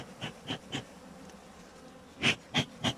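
Honeybees at an opened four-frame hive in October, heard as faint, quick buzzing passes, several soft ones and then three louder close ones near the end.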